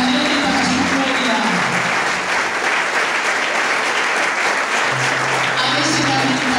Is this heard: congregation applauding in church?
yes